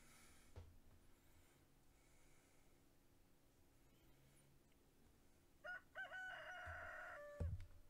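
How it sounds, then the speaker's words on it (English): A rooster in the Stardew Valley farming game crows once, loud and drawn out near the end after a quiet stretch of faint ambient game sound. "The loudest rooster in existence."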